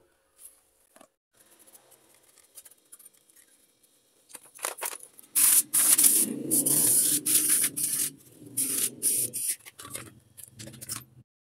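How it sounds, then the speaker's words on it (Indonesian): Cleaner is sprayed onto the circuit board of a Polytron TV in a series of close hissing spurts and rubbing noises, starting quietly and growing louder. "akan kita bersihkan dulu kita semprot dulu"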